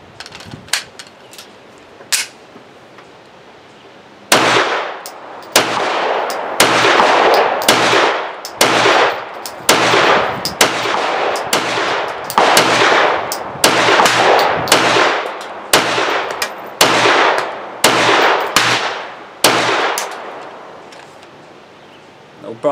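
Loud, sharp shots from a Walther PDP long-slide pistol with a 5-inch barrel, firing cheap steel-cased ammunition in a steady string of about seventeen rounds spaced roughly a second apart, each report ringing briefly. A faint voice is heard before the string begins.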